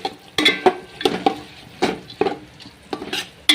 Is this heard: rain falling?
no